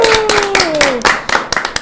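Hands clap in short, uneven bursts for Grupo JCM at a Spanish-language show, close and loud, with a sliding tone passing underneath.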